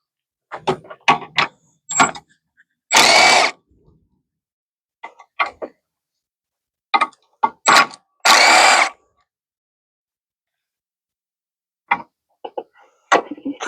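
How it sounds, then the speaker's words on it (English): A 10mm socket wrench works the bolts on the brake reservoir of a 2012 Prius during a brake actuator replacement. Short clicking bursts and two longer loud ratcheting runs sound close, separated by silence. "a couple of 10s now to get this reservoir out, which means that using the 10mm socket would probably be more helpful"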